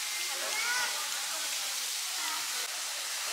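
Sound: temple waterfall flowing in the forest

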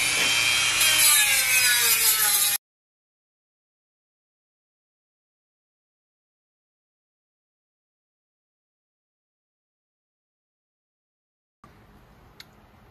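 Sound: Dremel tool with flap disc sanding radiator bracket

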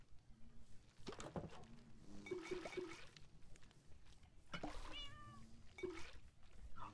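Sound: cats meowing in Minecraft video game

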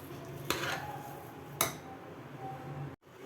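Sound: spoon mixing ven pongal in a pot

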